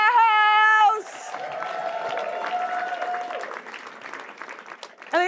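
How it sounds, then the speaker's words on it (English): An audience applauds and cheers as the Portland Thorns arrive, a crowd's clapping and whoops following a brief musical tone at the start, with another sound cutting in at the end. "Big round of applause."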